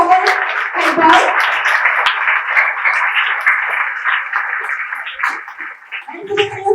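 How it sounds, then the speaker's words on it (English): Sustained applause from an audience at a school investiture ceremony at Amrita Vidyalayam, Perumbavoor, a dense, loud wash of clapping with voices mixed in, tapering slightly toward the end. "Please give a big round of applause for the former head boy."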